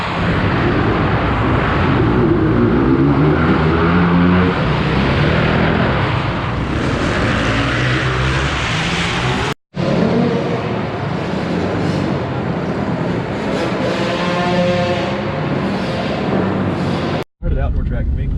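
Motocross bikes ride an indoor track at Earlywine, their engines making a loud, continuous, echoing roar with rising and falling revs that stops for two brief moments.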